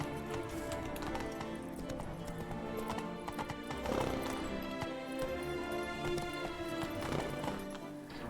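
Roach, a horse in The Witcher 3 video game, clip-clops with steady hoofbeats and lets out whinnies, faint and continuous, over game ambience.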